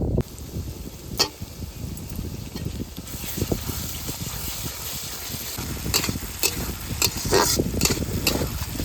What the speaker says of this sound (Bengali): আদা রসুন পেঁয়াজ একটু ভেজে নিয়েছি